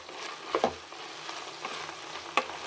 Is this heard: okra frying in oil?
yes